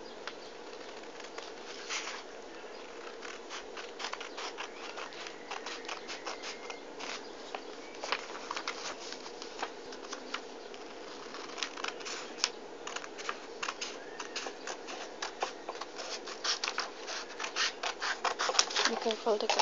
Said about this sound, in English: I'm gonna use some scissors to cut it.